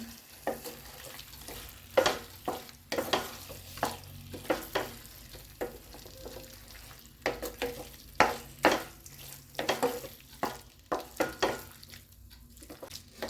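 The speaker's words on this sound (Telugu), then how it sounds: "ఇది మొత్తం ఈ గ్రేవీ అంతా ఈ ముక్కలకు పట్టే విధంగా ఒకసారి కలుపుకోవాలి." Potato pieces coated in a thick gravy are stirred in a pan, giving a series of wet, squelching scrapes and clinks at an irregular rhythm over a faint sizzle, close and fairly loud.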